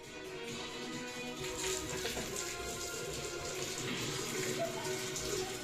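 Water pours steadily for several seconds, a continuous splashing rush with no talking.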